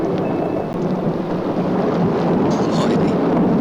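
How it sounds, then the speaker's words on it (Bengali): Thunder rolls through a dense, steady rumble during a dramatic film scene, with a windy, rain-like roar sustained across the whole stretch. "আকাশে তো বড় মেঘ ডাকছে।"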